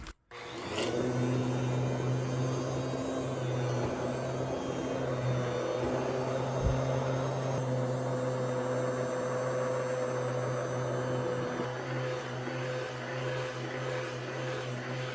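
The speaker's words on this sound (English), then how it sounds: "you want to make sure your emulsifier blender is on low as well" A steady motorized whir of an immersion blender pureeing cheddar broccoli soup, running continuously at low speed, droning loudly throughout with a constant hum and no talking.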